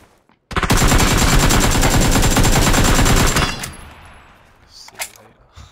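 AK rifle fire in PUBG, a long, rapid, loud automatic burst lasting about three seconds, then a fading tail with a couple of scattered later shots.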